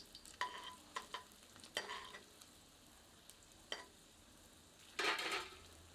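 Garlic cloves frying over medium heat in a pan, with soft sizzling and several sharp stirring scrapes and clinks spaced apart, ending in a louder burst of sizzle; quiet overall.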